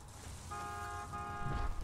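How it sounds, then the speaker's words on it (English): A vehicle horn in Borderlands 2 sounds as two short, fairly faint honks in quick succession, with no voices over it. "You gotta honk the horn."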